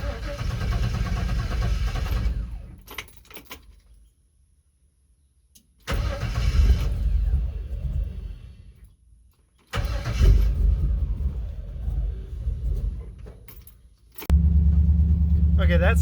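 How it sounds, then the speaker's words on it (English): The Ecto-1 replica car, a DIY Wrecto-1 build that was low on gas, cranks and starts several times, with the engine rumbling up and cutting out between attempts before settling into a loud, steady run up close. "go start the car up and drive it a little bit"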